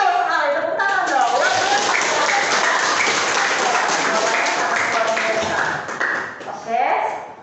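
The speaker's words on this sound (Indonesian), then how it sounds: "Betul sekali, tepuk tangan dong." A classroom of students claps together during a guidance lesson, loud, dense applause lasting about seven seconds before tapering off, with a few voices mixed in near the end.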